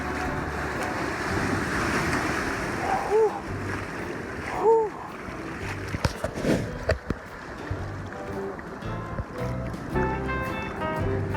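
Cold Southern Ocean surf washes onto a shore along a coastal walking track, a steady roaring wash mixed with gusts of wind buffeting the microphone and a few brief knocks.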